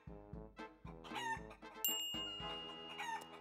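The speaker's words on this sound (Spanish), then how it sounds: "Gallina." Repeated clucking from a hen, bright and close, mixed with a rooster-like crow and a musical backing with a high tone.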